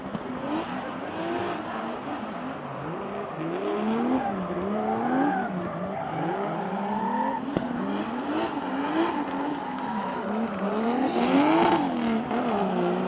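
Drift cars in a Pro 2 drift competition, two cars running in tandem with engines revving continuously and tires squealing in long wavering tones, steady and fairly loud throughout.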